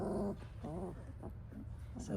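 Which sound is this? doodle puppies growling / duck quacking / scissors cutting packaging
doodle puppies growling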